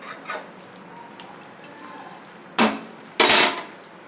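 Masala chicken with capsicum and potato frying and being stirred in a pan, with a low steady sizzle and two loud bursts of scraping stirring near the end.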